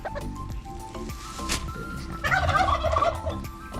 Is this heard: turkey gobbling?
yes